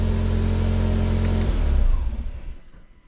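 A Volkswagen Golf R engine runs at a loud, steady idle with a brief rise in revs before shutting off and winding down to quiet.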